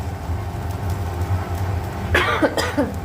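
Two or three short, harsh coughs from a person with a cold break through near the end, close to the mic over a steady low background rumble.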